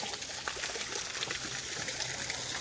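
A river flows below a riverside viewpoint in a steady, even rush of moving water, continuous and moderately loud with no voices.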